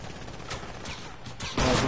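Gunfire in Fortnite Creative mode: a few scattered sharp bursts, closer together near the end, where a louder, denser volley breaks out. No one speaks.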